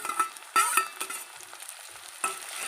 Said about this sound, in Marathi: टोमॅटो आणि कांदा मस्त भाजू द्या